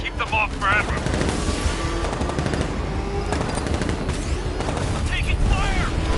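Rapid machine-gun bursts and heavy gunfire in Batman Arkham Knight rattle loudly and steadily, mixed with booms and a helicopter-like drone, while voices shout over the combat.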